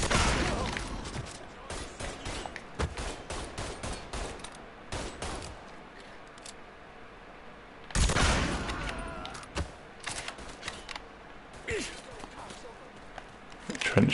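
Pistol shots crack in rapid, irregular bursts during a Mafia 3 firefight, with sharp reports scattered over the scene and a heavier cluster around the middle, while a voice talks over the action.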